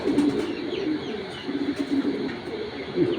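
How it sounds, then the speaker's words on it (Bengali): Old-breed pigeons cooing close by, a series of soft, low rolling coos repeating through the clip over a steady background hum. "এগুলো অনেক পুরানো জাতের কবুতর"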